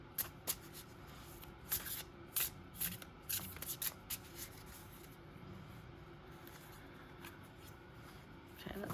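Quiet riffling snaps of cards being shuffled, several quick bursts close by in the first half, then softer rustling and a few more flicks.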